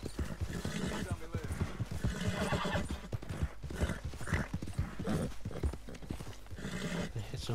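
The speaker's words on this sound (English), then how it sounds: "It's a horse here." Clip-clopping hooves and a loud horse whinny in Red Dead Redemption 2, with a busy mix of other effects and voices layered over them.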